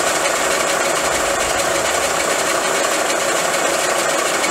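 An electric motor fed by a converter turns at 60 RPM in a workshop on a 1959 BSA C15T rebuild, giving a steady, loud, unbroken hum and rumble throughout with no talk.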